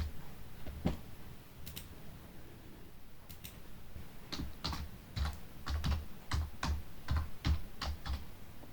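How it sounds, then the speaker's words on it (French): Someone types on a computer keyboard, a few scattered clicks at first, then a quicker run of soft keystrokes, quiet and close with no talking. "que je tape mon texte"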